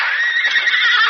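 A wounded horse lets out a single loud, shrill whinny after being shot, a strained cry lasting about a second and heard up close in a radio drama.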